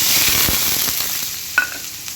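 Onion frying in oil with cumin gives a loud, close, continuous sizzle with a faint stir and a brief metallic clink near the end, and no one talks.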